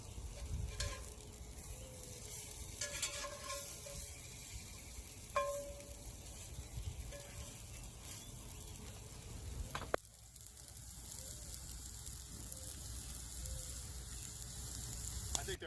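Steady frying sizzle of hoe cakes in a pan, continuous and close, with a few clinks of utensils and a brief shift in tone partway through.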